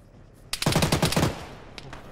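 A 14.5 mm heavy machine gun fires in the game Arma as one loud, close burst of about eight rapid shots, followed by a short tail and a couple of faint distant cracks.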